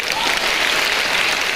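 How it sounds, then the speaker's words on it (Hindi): A seminar audience in a stadium claps together, a dense, loud, sustained burst of applause from a large crowd throughout the short clip. "तालियां बजा सकते हैं आप लोग क्या?"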